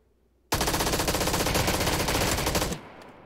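Sustained full-auto gunfire in the PUBG battle royale game on the snowy Vikendi map, a dense rapid burst of shots lasting about two seconds, loud and close, then cutting off abruptly.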